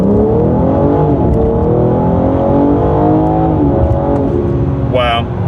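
A 2022 BMW M4 Competition coupe winds its engine up to high revs, the loud tone climbing and dropping through repeated upshifts, heard from inside the car.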